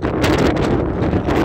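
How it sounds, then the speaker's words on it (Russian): Strong winter wind buffets the microphone on a skyscraper's top floors in Yekaterinburg, a steady, roaring rush, loud and continuous throughout with no voices. "Здесь особенно дует лютый ветер."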